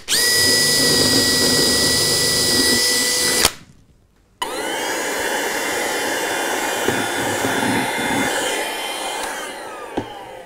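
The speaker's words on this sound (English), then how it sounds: "and then just drill a hole straight through it" A power drill whines loudly and steadily as it bores a hole straight through a model railway baseboard for wiring, stops briefly, then runs again at a slightly lower, grinding pitch.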